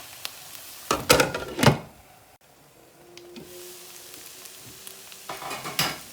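Paneer bhurji cooks in a pan, with a spoon scraping and stirring in a few brisk strokes followed by a quieter stretch of low sizzling before more stirring near the end.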